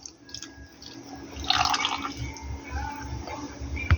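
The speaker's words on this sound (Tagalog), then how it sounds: "Ilagyan ko ng konting tubig." A small amount of water trickles and splashes into a pan of adobong liempo, a soft uneven pour with drips over low background noise.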